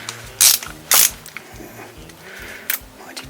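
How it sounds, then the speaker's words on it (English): Screws are undone on a side panel of a Suzuki V-Strom motorbike, producing a few sharp, close ratcheting clicks over a low background hum. "just undo these screws up here"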